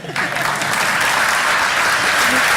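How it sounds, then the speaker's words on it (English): Applause at a school board meeting for a kindergarten teacher, Miss Dillon, rising suddenly after a brief moment and holding as a loud, even wash of many hands clapping, close and sustained. "that probably deserves a round of applause"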